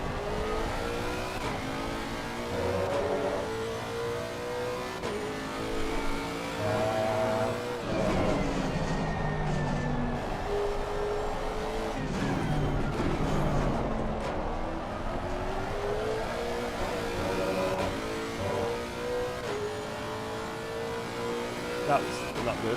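Race car in a racing game laps the Nordschleife, its engine revving up and down through gear changes and braking in a steady stream, with someone talking over it at times.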